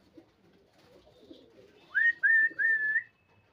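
Pigeons in a loft give three drawn-out, whistled coos one after another, clear and fairly close, above a low, murmuring bed of quieter bird sounds.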